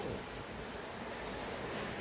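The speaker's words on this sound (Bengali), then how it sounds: "এখানে দেখো কি সুন্দর বৃষ্টি পড়ছে" Rain falls outside an open door as a soft, even wash of hiss with a breath of wind, faint and distant, steady throughout with no talking.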